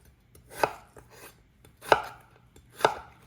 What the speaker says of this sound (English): The potato, we're gonna cut into cubes as well